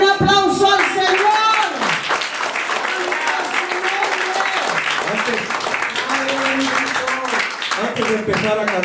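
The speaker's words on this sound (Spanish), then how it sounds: "Dale un aplauso." A church congregation applauds after a duet's song, sustained clapping mixed with cheers and voices across the whole stretch, loud and close.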